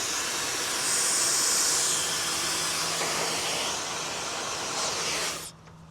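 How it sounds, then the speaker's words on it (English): A hair dryer blows a steady, loud whooshing hiss for several seconds, then cuts off abruptly near the end. "Okay, so this is a hair dryer"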